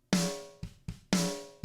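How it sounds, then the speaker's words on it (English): Drum hits run through fast-attack compression in a mix, the initial transient flattened so each strike sounds dull and squashed, four hits in an uneven pattern, close with no talk. "And the fast attack, the hit of the drum is completely destroyed."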